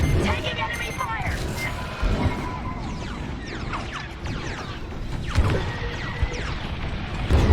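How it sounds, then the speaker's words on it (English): Enemy blaster fire in the Star Wars: Squadrons space combat game, a steady stream of rapid zapping shots and mechanical clatter with occasional booms, under a voice speaking. "Taking enemy fire."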